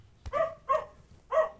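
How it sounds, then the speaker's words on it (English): A dog barks three times in the distance, short separate woofs spread evenly apart with faint room noise between them. "That was a dog."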